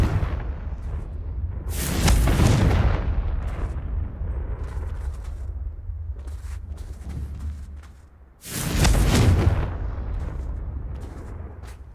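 Two heavy explosive blasts from the Confringo spell in Hogwarts Legacy, each a loud booming burst with a long rumbling tail, the second landing around the eighth second, over steady game ambience.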